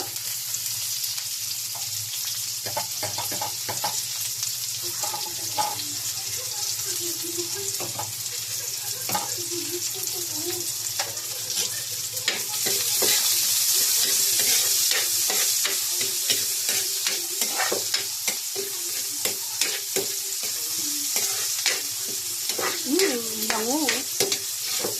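Onions go into a pan with browned garlic and ginger and fry in a steady sizzle, with stirring scrapes and clinks, plus a brief faint voice.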